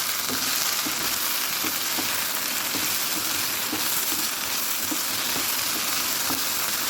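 A potato mixture fries in a pan while being stirred, giving a continuous loud sizzle with soft rhythmic scraping of the spoon throughout and no talking.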